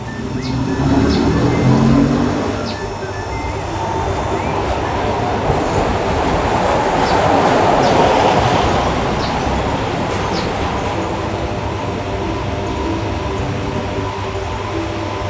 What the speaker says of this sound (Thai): อันนี้ก็คือเสียงของมอเตอร์นะครับ ก็จะประมาณนี้ขณะไม่มีโหลด